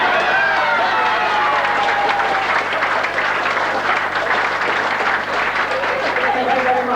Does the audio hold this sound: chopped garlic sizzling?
no